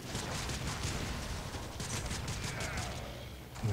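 Boar Prime shotgun firing in Warframe, a dense, steady barrage of heavy booming shots with clattering mechanical texture throughout.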